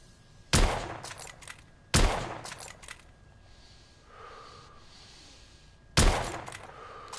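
Gunshots in the video game The Order: 1886 come as three loud, sharp reports spaced a few seconds apart, each with a short decaying tail. Faint mechanical clinks and quiet ambience fill the gaps between them, and no one speaks.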